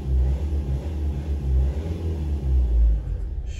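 A 1.9-litre car engine revs as the accelerator is pressed, a deep pulsing rumble that swells and eases in repeated surges, close and steady, with no talk over it.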